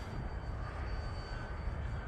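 An E-flite Commander mPd RC airplane flies in winter, its electric motor giving a steady, even buzzing drone at moderate distance, with no talking.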